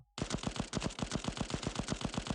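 Rapid automatic gunfire in the Cover Fire shooting game rattles off in an even, unbroken burst of about fifteen close, loud shots after a brief pause, with no voices.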